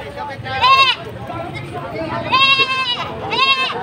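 Goats at a livestock market bleat in wavering cries, three loud calls close by, over a busy background of crowd chatter and babble.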